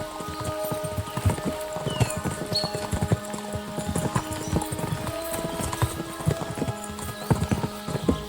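Horses' hooves in a video game (Kingdom Come: Deliverance 2) clatter in a fast, continuous clip-clop rhythm, with a brief whinny amid the steady drumming.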